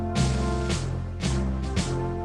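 Keyboard backing rhythm in a grand march style, regal and stately, with repeated sustained chords and percussive accents on each beat; short, close and moderately quiet with no voices.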